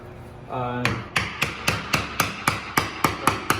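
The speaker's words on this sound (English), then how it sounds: "Hammering it like so, and it gives way pretty quickly." A hammer taps a wedge driven between a bathroom mirror and the wall, about eleven sharp, evenly spaced strikes close by, with no talking.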